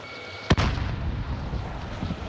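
A grenade explodes in Call of Duty Warzone with one sharp, loud blast followed by a rumbling tail that fades out over about two seconds.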